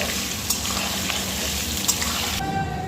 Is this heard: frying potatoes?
yes